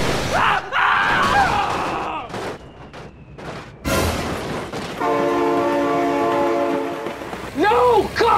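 In the BeamNG Drive video game, loud crashes and bangs come first, then a train horn sounds one long, loud blast, and an excited voice shouts at the end.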